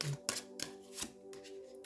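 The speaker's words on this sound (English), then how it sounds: "I can't lean on the table to shuffle." Tarot cards are shuffled by hand, giving a few quick riffling bursts close by over a soft background hum.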